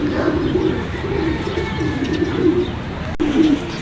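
Racing pigeons at a loft in Angono, Rizal, cooing close by in soft repeated low calls while a training bird arrives, with a sharp click near the end.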